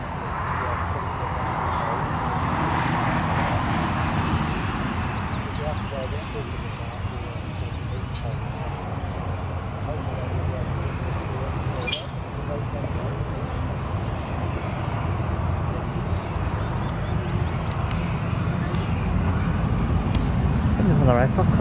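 An aircraft arriving at Newcastle Airport gives a broad, continuous roar that builds slowly and stays steady for a long stretch. Voices talk over it now and then.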